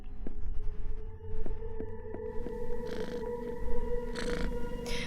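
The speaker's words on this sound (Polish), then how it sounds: "A bo tutaj jest kotek, on śpi pod stołem i mruczy" Cat purring while asleep under a table in the horror adventure game Creepy Tale, a loud, close, continuous low rumbling purr with steady tonal hum, joined by soft airy noise bursts near the end.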